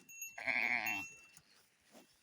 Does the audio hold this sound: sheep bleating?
yes